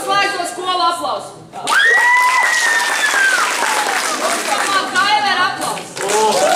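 Theatre audience bursts into loud applause with cheering and whoops, mixed with a lively crowd and voices talking over the clapping.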